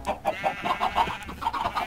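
Chickens cluck in a quick, steady series of short, bright calls, close by, with a faint electronic hum underneath, in a video game.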